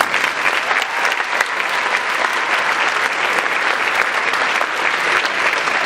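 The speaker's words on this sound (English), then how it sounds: "round of applause for my family" Loud, sustained applause from a large audience at a high school band spring concert, clapping for the speaker's family; a continuous dense roar of hands close and even throughout, with no speech over it.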